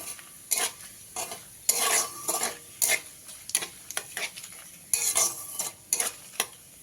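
Panch phoron, two dried red chillies and two bay leaves frying in hot oil, with a soft steady sizzle broken by sharp intermittent stirring scrapes of a spoon against the pan, close and fairly quiet.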